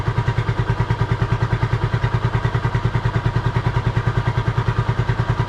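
A Honda CB250RS motorcycle engine idles with its lights switched on, a loud, close, steady pulsing thrum that keeps an even rhythm from start to finish with no revving.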